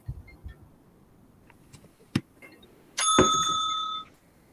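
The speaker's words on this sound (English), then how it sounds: "The timekeeper will ring the bell once" A small timekeeper's bell at a debate competition is struck once and rings out for about a second, bright and close, after a few soft taps and clicks.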